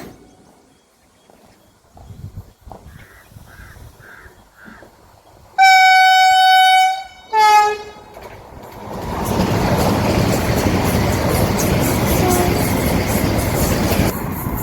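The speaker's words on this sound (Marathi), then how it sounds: "आता बघू शकता आपल्या पाठीमागे वंदे भारत ट्रेन येत आहे मित्रांनो, सुंदर अशी वंदे भारत ट्रेन" A Vande Bharat express train approaches with a long, loud two-tone horn blast and a shorter second blast, then rushes past with a roaring, rattling wash of wheels and wind.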